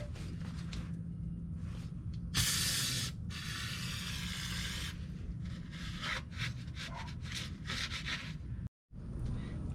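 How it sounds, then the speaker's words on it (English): Brake cleaner sprays in short and longer hissing bursts onto the metal surface of a Ram NV5600 manual transmission during a fluid change, up close, with rubbing and handling noises between bursts and no talking. "I do take some brake cleaner and I kind of spray the transmission"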